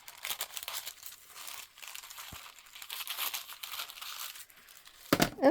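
Paper being pulled out and trimmed for a junk journal, with close crinkling and soft tearing that ends in a sharper crunch.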